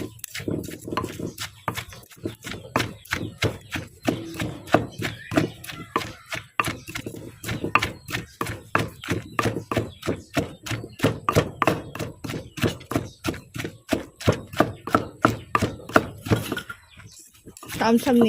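Fish, herbs and seasonings pounded in a mortar for Lao-style fish pon, a long run of rhythmic dull thuds, steady and close, with some quiet talk under the strikes.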